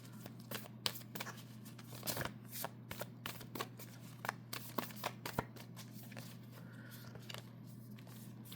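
Tarot cards are shuffled repeatedly at close range, with quick riffling bursts and soft slaps in an uneven rhythm over a faint steady hum.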